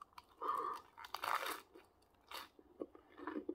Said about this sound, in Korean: 사과는 껍질째 깎았어요. 이렇게 껍질째 해서 이렇게 먹는